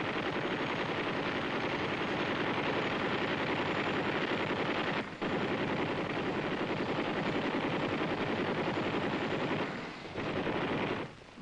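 A helicopter-mounted 7.62 machine gun system, the Army's XM6 kit, fires in a dense, continuous roar from an Army helicopter in Vietnam. It is loud and sustained, with brief dips near the middle and end.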